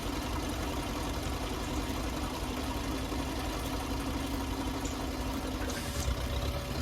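A farm tractor engine running steadily near a dairy in 1962, a continuous low idling rumble with faint knocking, moderately loud and alone without talk.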